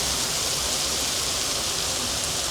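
Heavy rain pours down on a city street in China, a dense, constant hiss of downpour heard close and loud throughout, with no speech.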